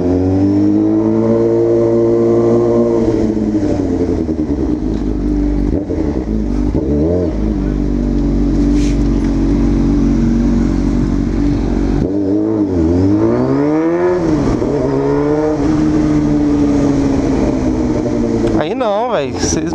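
A Honda Hornet motorcycle revved hard again and again up to the rev limiter, loud and close, the engine note climbing and bouncing at the cutoff, with people talking over it.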